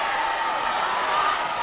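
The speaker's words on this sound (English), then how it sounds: "The crowd's getting into it." A steady crowd roars and cheers in a high school gym during a wrestling match, Lowell against Chelmsford, as a wrestler hunts for a pin; the sustained crowd noise fills the clip with no clear clapping rhythm.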